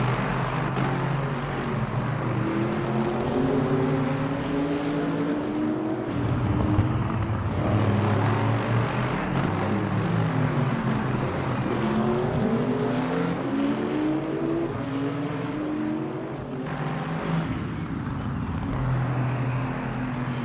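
Race cars in the Le Mans Ultimate sim roar past the start-finish line in wet, rainy conditions, a steady dense engine drone with rising and falling gear-shift tones from several cars throughout.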